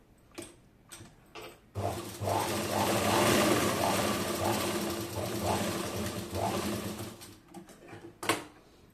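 A tailoring sewing machine stitches in a fast, steady whirring run of about six seconds, its needle rattle loud and close, with brief clicks and knocks before and after.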